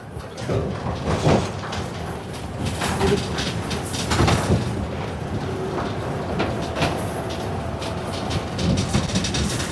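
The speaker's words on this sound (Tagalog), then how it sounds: "dito tayo sa loob ng train na maingay" A small sightseeing mini train rattles and bumps along a narrow street in Jerusalem, with a steady loud rumbling ride noise, clattering knocks and occasional voices inside the open car.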